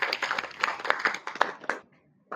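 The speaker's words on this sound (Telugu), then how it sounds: "వాళ్ళిద్దరికి కూడా మనం ఇప్పుడు పెద్ద బిగ్ అప్లాజ్ చప్పట్లతో తెలుసుకున్నాము." Family audience clapping at a gathering, a quick burst of close, sharp handclaps that thins out and stops near the end.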